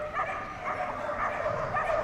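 Keyed-up dogs at a Crufts flyball quarter final bark and yip repeatedly in quick, overlapping bursts amid a busy indoor arena hum, moderately close.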